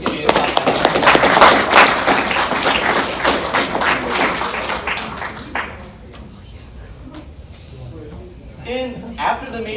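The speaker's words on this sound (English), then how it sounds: "Give him a round of applause" Convention panel audience applauds with dense, loud clapping for several seconds, thinning to scattered claps and room noise as a voice speaks.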